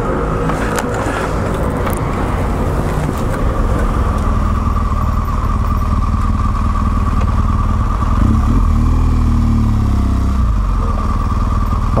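A motorcycle engine drones steadily and loudly up close while riding through downtown Daegu, with wind rush and surrounding traffic noise throughout, no talking.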